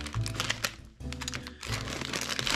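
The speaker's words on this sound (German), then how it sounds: "Wenn ich die aufmache, diese Tüte" A plastic Samyang Buldak instant noodle packet being pulled open, giving close, loud crinkling and rustling with a short lull in the middle.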